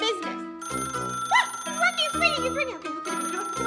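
An electronic telephone ring chirps in rapid repeated bursts, loud and close, in a pizza delivery game, mixed with game music and excited voices.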